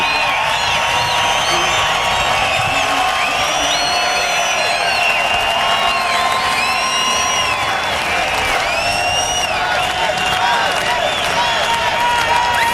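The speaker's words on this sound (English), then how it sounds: "listen to this crowd. What a salute." A race crowd at the 2011 NASCAR Nationwide Napa Auto Parts 200 in Montreal roars and applauds without pause, while engine notes sweep past again and again beneath the cheering.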